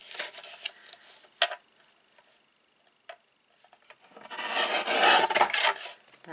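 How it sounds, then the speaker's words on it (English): Excess card stock is trimmed from a handmade stamped note card: scattered close scraping and tapping sounds, then a louder, sustained rasping cut near the end. "I'm going to trim off the excess"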